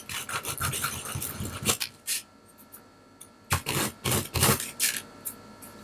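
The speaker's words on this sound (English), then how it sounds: "I'll just take a little sandpaper to do the rest of that little nub" Sandpaper rubbing off a small nub on a plastic skeleton, quick rhythmic scratchy strokes in two bursts with a short pause between, close and fairly quiet.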